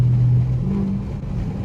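A 500 hp Dodge Scat Pack pulls hard on a freeway, its engine a steady low roar and rumble with a rising tone, heard from inside without talk.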